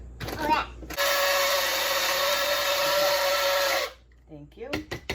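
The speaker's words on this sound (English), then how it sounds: "Let's grind this coffee up." A coffee grinder grinds beans in a home kitchen, a loud steady whir lasting about three seconds and then cutting off, with brief talking before and after.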